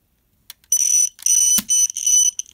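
A Snap Circuits horn set off by a tilt switch blares in loud, harsh electronic bursts that start and stop several times, with a sharp click partway through.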